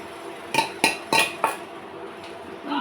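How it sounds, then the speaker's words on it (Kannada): A metal spoon scrapes and knocks against a pan while vegetable curry (palya) with grated fresh coconut is stirred, making four distinct clanking strokes over a steady background hiss. "ಮಿಕ್ಸ್ ಮಾಡ್ಕೊಳ್ತೀವಿ"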